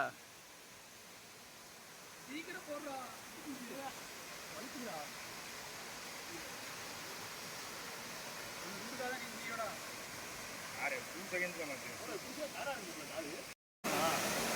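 Keralam Gundu waterfall in Tamil Nadu, low on water but crystal clear, gives a constant broad rush of falling water heard close, with faint scattered chirping calls over it and a brief dropout near the end.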